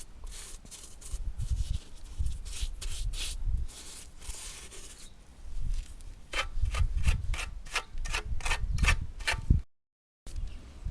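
Someone smooths the edge of a homemade sand-and-cement planter by hand, making repeated rough rubbing and scraping strokes in uneven bursts, close and moderately loud, with a short silent gap near the end.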